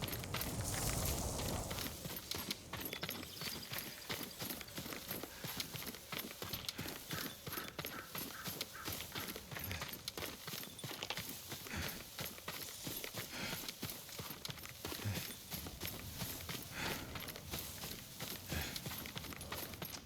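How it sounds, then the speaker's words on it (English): Horse hooves clip-clop steadily in the video game Ghost of Tsushima, a dense continuous trotting rhythm loud throughout, with a brief burst of other game sound at the start. "Yuriko's horse. She can't be far."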